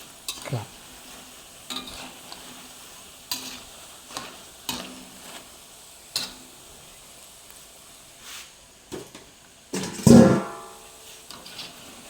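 Banana slices deep-fried a second time for a crisp outside sizzle in a pan, heard through a run of short stirring and scraping bursts, then a loud hissing splash as more pieces drop into the hot oil.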